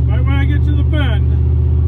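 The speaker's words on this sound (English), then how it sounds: "See, there was one, a Honda, now a Ford, only right where the curve is at." A Honda and then a Ford pass by at a curve on a road, heard as a loud, swelling whoosh of traffic over a steady low engine drone, with voices talking over it.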